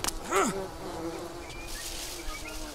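Bees buzz steadily in the survival video game Green Hell, a continuous droning hum with a brief louder swell near the start and no talk over it.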